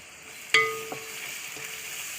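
Salted onions fry in a pan under a steady sizzle, with one sharp metallic clack of a spoon on the pan, then two softer scrapes of stirring.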